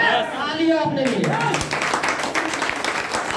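A seated audience at a DXN gathering bursts into loud, sustained clapping that swells after a brief spoken line and carries on steadily to the end.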